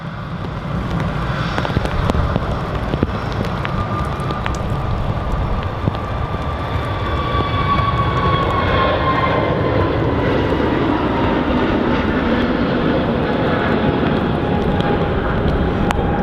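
An EasyJet airliner departing Manchester Airport, a loud, sustained jet engine roar and rumble heard from nearby for the whole stretch, with no talk over it.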